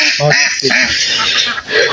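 Ducks at a duck farm quacking loudly and close by in a brief, raucous cluster of honking calls, with a voice talking over them.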